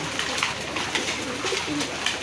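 A seller's collection of pigeons coos in low throaty rolls, several calls overlapping at close to middle distance within a steady background hiss.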